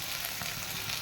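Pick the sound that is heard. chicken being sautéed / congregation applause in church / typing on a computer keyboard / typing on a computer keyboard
chicken being sautéed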